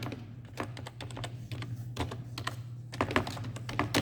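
Rapid, uneven keystrokes on a computer keyboard while text is typed into a text editor, close and clear, with a steady low hum underneath and no talking.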